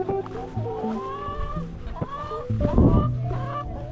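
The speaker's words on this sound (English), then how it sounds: "The chicken." Chickens on a farm property cluck and squawk continuously nearby, several birds overlapping in a busy, uneven chorus with a louder flurry toward the end.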